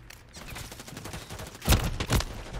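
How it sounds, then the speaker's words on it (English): Gunfire from a single-shot weapon in Call of Duty MWIII on the Rio map: two sharp, loud shots about half a second apart over a steady bed of game noise. "Probably a single shot weapon."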